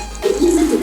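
A pigeon gives a short, close, soft coo after a brief moment of quiet.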